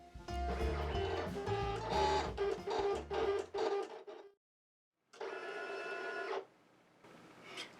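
A Silhouette Cameo 4 cutting machine with AutoBlade slices paper, its motor buzzing and clicking in rhythmic bursts of carriage movement, pausing briefly before a final long run, close and alone.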